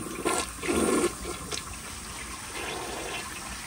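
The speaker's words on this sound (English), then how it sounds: "Let's go ahead and flush it, see if it can take down the rag." A yellow 1978 Kilgore Apex toilet flushes nearby with a rag in the bowl, giving a short, quiet rush of water that gurgles and fades into a softer trickle.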